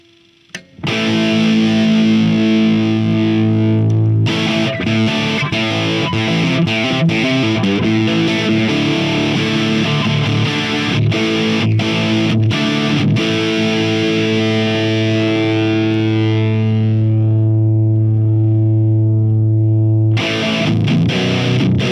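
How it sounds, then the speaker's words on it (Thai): Heavily distorted electric guitar through a TC Electronic Ampworx JIMS 800 preamp, metal-style EQ with mids cut, playing sustained, chugging chords, loud and continuous, with a brief drop-out near the end before resuming. "เดี๋ยวลองเสียงกลับไปที่เสียงแตกนะครับ แล้วก็เดี๋ยวลอง EQ ดู"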